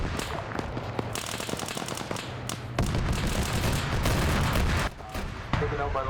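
A .50 cal turret machine gun fires in a video game, cutting out rapid bursts of shots over a chaotic mix of other gunfire and booms. The firing is loud and close, broken by short pauses.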